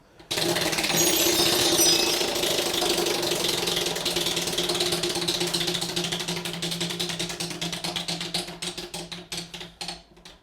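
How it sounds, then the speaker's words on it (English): On a school game show, a prize wheel spins with a rapid, loud clicking rattle that gradually slows, the ticks growing farther apart and fainter until it stops. "Salvador Garcia, go ahead and spin that wheel."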